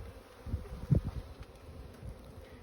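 Honey bees buzz around an open hive frame during a spring hive split in Durango, Colorado, a soft continuous hum with a few louder close passes up near the listener.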